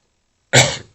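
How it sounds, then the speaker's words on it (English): A single sharp human sneeze bursts out close and loud after a moment of silence, then fades quickly. "Still sneezing a little bit."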